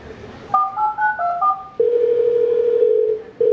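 A telephone call goes unanswered: a few quick keypad tones, then a long, steady ringing tone that briefly cuts off and resumes. The tones sound clear and close, with no one speaking.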